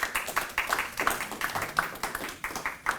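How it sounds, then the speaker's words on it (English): Applause from staff at a Department of Corrections town hall, an irregular patter of many hands clapping at moderate volume for the full stretch, with faint murmuring underneath. "You should give yourselves a round of applause."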